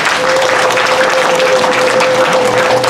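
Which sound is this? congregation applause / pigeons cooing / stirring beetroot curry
congregation applause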